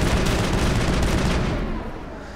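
Rapid automatic gunfire from the Mass Effect video game, a dense, loud, continuous burst of shots that thins out toward the end.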